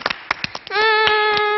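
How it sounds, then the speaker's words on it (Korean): Children in a Korean TV kindergarten setting clapping for the red team, a few scattered claps followed by a sustained tonal cheer or sung note while clapping continues. "우리 빨간 팀 친구에게 박수!"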